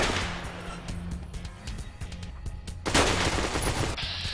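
Gunfire in the Fallout: New Vegas video game, a run of sharp, loud shots in quick succession with a heavier burst near the end, close and dominant with no talking.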